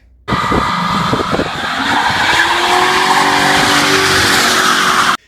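Ford Crown Victoria P71 Police Interceptor, a police-spec V8 sedan, accelerating hard with a loud sustained tire squeal and roaring engine for about five seconds, close and without speech.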